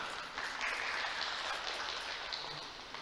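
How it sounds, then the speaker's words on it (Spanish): A crowd applauds a girl named Chloe after her speaking turn. The clapping is a faint, steady, rain-like patter heard at a distance, with no voices over it. "Un aplauso también a la Chloe"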